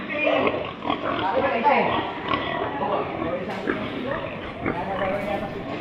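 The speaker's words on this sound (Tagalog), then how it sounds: "Daming baboy diri guys." Pigs of about 50 to 60 kilos at a market, grunting and oinking in a busy pen alongside a dog's yips, with people talking over the animal noise throughout.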